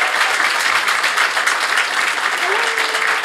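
A live podcast audience at a Rotterdam film festival breaks into steady, dense applause, loud and continuous with no talk over it.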